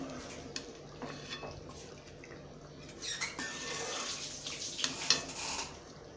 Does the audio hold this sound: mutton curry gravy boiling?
yes